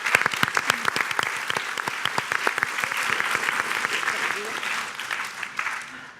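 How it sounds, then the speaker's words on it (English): An audience at a talk gives a round of applause for the artists, a strong close burst of dense clapping with sharp individual claps that slowly thins out, with a little talk mixed in. "So maybe we could have some applause for our artists."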